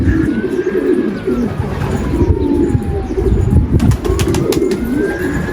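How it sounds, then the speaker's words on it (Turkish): A pigeon coos softly and repeatedly nearby over steady outdoor background noise, with a few faint chirps and a brief flutter of wings. "Ama güzel de bir güvercin aslında."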